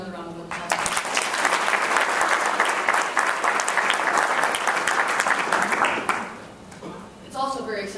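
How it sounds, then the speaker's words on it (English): Sustained audience applause at a Chicago hate crimes summit, loud and steady for about six seconds before fading into quieter room sound. "Let's give her another round of applause."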